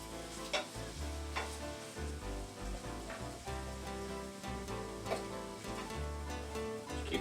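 Mushrooms from a whole jar sizzle in a hot pan on a gas burner, a steady frying crackle broken by repeated stirring scrapes and clinks, close and moderately loud, with no talk.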